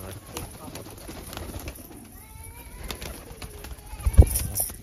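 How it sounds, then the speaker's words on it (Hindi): A pigeon coos close by, soft low calls rising and falling against a faint outdoor background, with a sharp brief thump near the end. "ये देखिए मेरे पास ही आकर बैठ गया है कबूतर"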